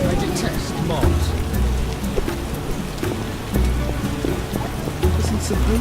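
Steady rain pattering across a surface in The Witcher video game, a constant hiss with scattered droplet ticks and low rumbles underneath, with brief muffled voices now and then.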